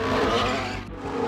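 An F1 race car in the F1 23 video game pulling into the pits at the Japanese Grand Prix, with a loud, close engine roar and tyre noise dipping briefly before rising again.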